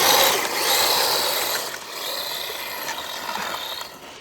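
A DEERC Sandy 1/18 scale RC car runs in the snow, its small motor and gears giving a steady high-pitched mechanical whir that swells and eases slightly, fairly close and loud, with no talking.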